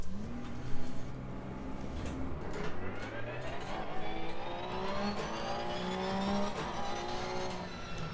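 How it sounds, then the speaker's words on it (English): Porsche race car lapping the Paul Ricard circuit, heard from onboard as a steady engine note climbing in pitch through the gears, with a brief tire-squeal-like burst early and a gearshift midway, loud and continuous. "I'll take a quick drive around the circuit"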